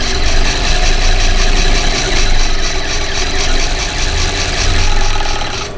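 An overlocker serger stitches along the raw edge of blouse fabric, trimming off stray threads as it runs. A loud, continuous mechanical whir holds steady throughout with a fast, buzzing stitch texture and no voices.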